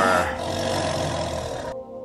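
A man imitates a lion with his voice, letting out one loud, rough, sustained roar that lasts nearly two seconds before cutting off abruptly.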